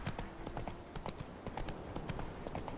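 Hooves of Roach, the horse in The Witcher 3, beat out a fast, even gallop rhythm up close, each clip-clop distinct and continuous throughout, with no voices on top.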